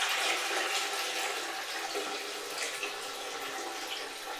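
Dirty cleaning solution pours out of the open recovery tank of a Namco Scooter cleaning machine into a commode, making a steady rushing gush of water that continues close and unbroken with no talking.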